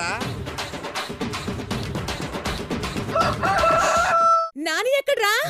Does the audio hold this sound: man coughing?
no